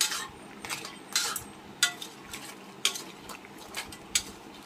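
A spoon stirs a crab and shrimp stew simmering in coconut milk with squash and string beans in a pot, giving a string of close, sharp scrapes and clinks against the metal over a soft bubbling sizzle.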